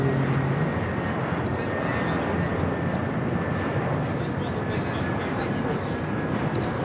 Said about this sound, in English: This arrival is Delta Airlines Flight 1142 coming in from Salt Lake City, Utah on the A321.